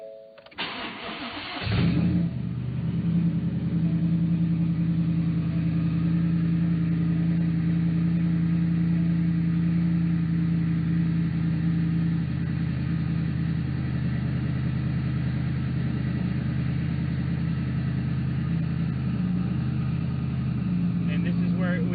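A Factory Five XTF kit car engine cranks and catches, then settles into a steady, low rumbling idle that runs on evenly and close by, with no revving.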